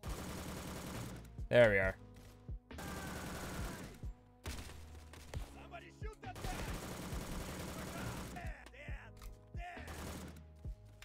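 Roblox shooter gunfire from a high-recoil gun: several loud bursts of rapid shots broken by short gaps, with a player briefly talking between them.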